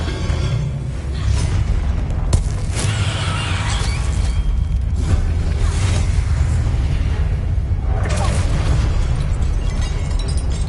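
An incendiary magic spell explodes in a fantasy video game, a loud sustained roar of fiery bursts and whooshing blasts with sharp pops, heavy low rumble underneath throughout.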